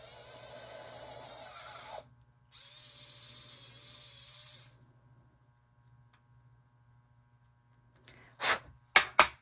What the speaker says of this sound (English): Hold it, press it down, and then just drill right through.